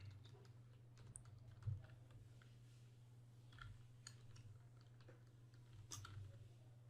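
Quiet, close typing on a computer keyboard while entering text for a lower-third title, a loose run of soft key clicks over a low steady hum, with no speech.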